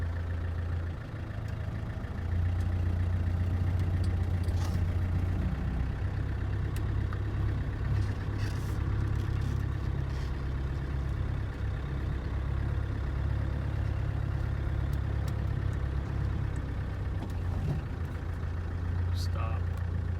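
A 1995 Land Rover Defender 130 with a 300 TDI diesel engine running steadily at low speed around a lot, a continuous low rumble heard from inside the cab.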